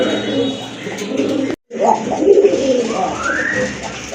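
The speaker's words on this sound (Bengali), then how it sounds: "এই যে দেখেন আরেক জোড়া কবুতর" Pet pigeons, a pair of Giribaj Babra boot-beaked birds offered for sale, coo in low rolling calls close by, with a brief dropout midway and someone speaking nearby.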